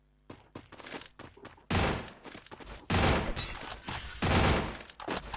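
Bursts of rapid gunfire in a Counter-Strike ranked match, a few quick separate shots followed by longer, louder sustained volleys, close and sharp.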